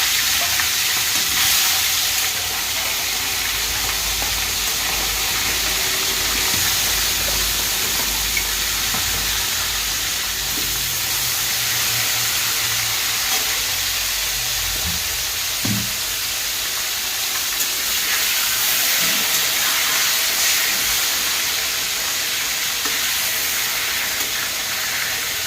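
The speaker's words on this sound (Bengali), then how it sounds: "এবার আমি রুই মাছের মাথাগুলো লাল লাল করে ভেজে নেব" Rohu fish heads rubbed with salt and turmeric fry in hot oil in a wok, a loud continuous close-up sizzle and hiss with occasional spatters and light stirring scrapes throughout, no voices.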